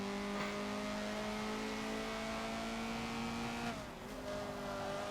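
A Honda CRX engine in the Forza racing game revs high on the Mugello track, a loud sustained whining drone that holds steady, then dips briefly at a shift before climbing again, with no talk.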